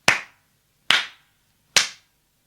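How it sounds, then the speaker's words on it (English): Three sharp hand claps, evenly spaced and close, each with a quick decay, standing alone against silence. "the eldest princess clapped her hands 3 times"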